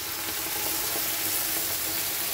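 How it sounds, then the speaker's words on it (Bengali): Cumin paste added to a frying pan with okra and potatoes, giving a continuous dense sizzle and hiss throughout, close and even. "এবার দিয়ে দেবো জিরে বাটাটুকুনি।"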